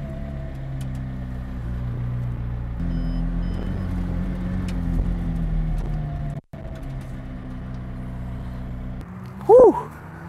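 A McLaren Senna idles with a low steady engine hum, then rolls off; the drone continues with a brief dropout, and a short high electronic chirp sounds near the end.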